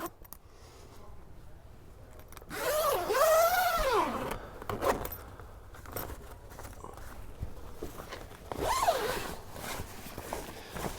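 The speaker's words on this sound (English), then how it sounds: "the tent ends both have the zipper" A zipper is drawn along the fabric tent end of a 2025 Rockwood Roo hybrid travel trailer: one long, close, rasping pull, then soft canvas rustling and a second shorter zip near the end, with no talking.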